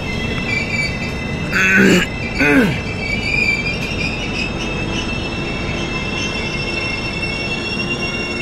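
A train pulling into Kulti station on the Howrah to Dhanbad line lets out two loud, shrill wheel squeals in quick succession over a constant rumble of rail noise, which continues after the squeals fade.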